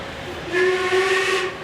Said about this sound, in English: So here comes the Austerity 8F again.